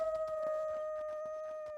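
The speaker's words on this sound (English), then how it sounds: "Got some howling wolves over here." A wolf howls in the video game Going Medieval, one long sustained tone holding a steady pitch, with a faint pulsing clatter of game sounds underneath.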